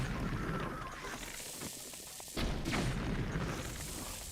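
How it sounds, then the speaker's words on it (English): An explosion in The Legend of Zelda: Breath of the Wild bursts out about midway as a sudden broadband boom over steady game ambience, with its rumble lingering through the rest. "Explosion."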